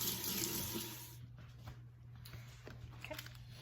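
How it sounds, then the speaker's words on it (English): Tap water runs steadily into a kitchen sink while a few lettuce leaves are rinsed under it. A soft, even splashing starts loud, then turns slightly quieter and more broken as the leaves shift under the stream. "go ahead and wash these few leaves first"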